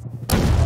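RPG rocket explosion in Half-Life 2 Deathmatch: a sudden loud, deep blast that hits hard and rumbles on, following a brief quieter lead-in.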